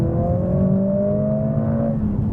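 A 2020 Mercedes-AMG CLA45 S engine revs and holds a smooth, rising tone for about two seconds, loud and close, with no voices.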